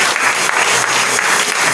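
A church congregation bursts into loud, dense applause, a continuous close wash of clapping with no talking over it.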